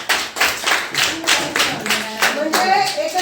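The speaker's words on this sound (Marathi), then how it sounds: "टाळ्या." Students in a Marathi classroom applaud a classmate's marks, a steady burst of close, quick hand clapping lasting a few seconds with a voice briefly heard over it.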